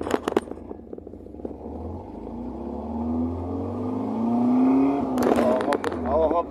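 A VW Gol CHT 1.6 engine revs up with a rising tone over several seconds, loud and close, with a burst of clattering noise near the end and some background voices.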